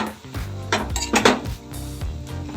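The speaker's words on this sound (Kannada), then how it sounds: "ಸೊ ಇದನ್ನೆಲ್ಲದನ್ನು ಚೆನ್ನಾಗಿ ಫ್ರೈ ಮಾಡೋಣ" Chilli masala is stirred and fried in a pan, with a metal utensil clanking and scraping against the pan in a few loud, close knocks and strokes. No voices are heard.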